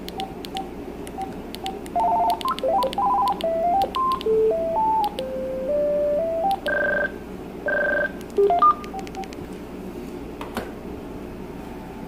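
An AT&T CL82301 cordless phone handset emits a run of short electronic beeps and tones at varying pitches while its ringer volume is adjusted, sounding close and clear over a quiet room.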